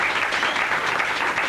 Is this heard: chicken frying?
no